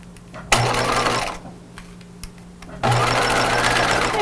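A sewing machine stitches a curve on pajama fabric in close, loud bursts, starting and stopping with quiet gaps between runs.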